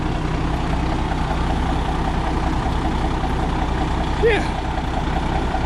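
A 1991 International 9670 Eagle truck's diesel engine idles with a steady low rumble throughout, close by, while a voice briefly speaks over it.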